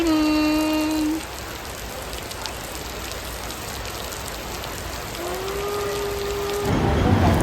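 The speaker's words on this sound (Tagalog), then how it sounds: "Heavy raining." Heavy rain pours down steadily as a dense, continuous hiss that grows louder toward the end. Brief tonal hums from a vehicle or machine pass early and late.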